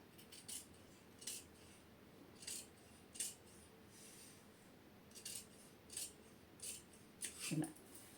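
Scissors snip through blouse fabric along a marked line in a quiet room, a series of short crisp cuts repeating about every second, close and fairly soft.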